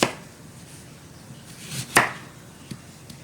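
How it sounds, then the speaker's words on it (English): A kitchen knife slices through a raw potato for homemade fries, giving a few sharp, close cuts spaced irregularly against a quiet background. "I'm just cutting straight through like this, making my thin slices this way first"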